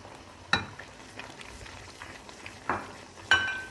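Banana halwa with sugar and dry fruits cooks in a pan, with soft scraping and stirring and a few sharp clinks of a utensil against the pan over a faint bubbling hiss.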